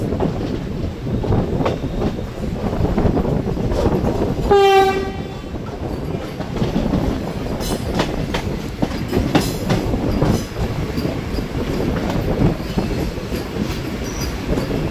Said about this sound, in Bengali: Vande Bharat NGP Howrah Vande Bharat express.